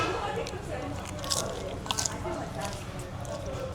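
Close, soft chewing of kimchi and cucumber salad, wet crunches and squishes repeating in an uneven rhythm, with a couple of sharper bites.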